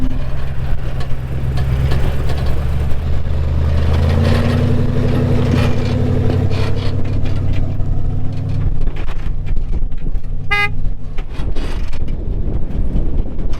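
A Toyota wrecker crawls off-road in low range and first gear with both axles locked, its engine droning loud and close with a steady low rumble, a few mechanical clunks and a brief higher whine near the end.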